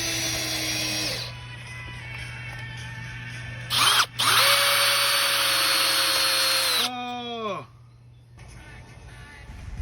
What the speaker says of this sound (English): routing out slots in which the decking could slide in and be screwed in from the side to make a nice secure step